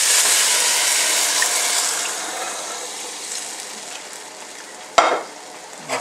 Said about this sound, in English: we want to go ahead and add the 4 cups of water.